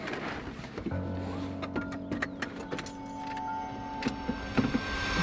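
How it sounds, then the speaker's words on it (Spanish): A car engine fails to start: a steady whirring cranking tone with scattered clicks and rattles, close and moderately loud, with no voices. "que no arranca el coche"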